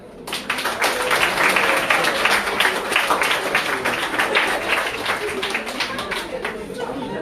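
An audience applauds at a French school's civic ceremony, a dense, sustained clapping that starts abruptly and holds steady and loud for several seconds, filling the room with a few voices mixed in.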